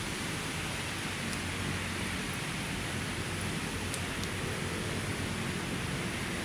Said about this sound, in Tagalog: Ayan yung ulan, no? Pag ganun, kaya ano siya, mahina lang, no? Hindi yung kalakasan ng ulan.